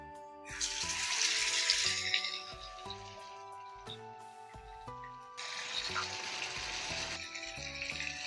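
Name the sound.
marinated chicken deep frying in hot coconut oil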